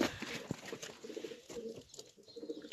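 Pigeons coo in a loft, soft throaty calls repeating in uneven bursts close by, with faint rustling between them and no one speaking.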